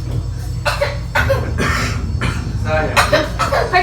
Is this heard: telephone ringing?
no